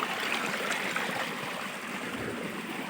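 A waterfall and its stream pour without a break in a hilly spot, making a dense, even rush of water that fills the whole moment without pause or voices.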